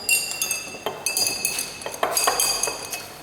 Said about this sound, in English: We will mix this with a glass rod.